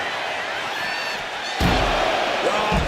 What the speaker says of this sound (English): heavy contact into the steel steps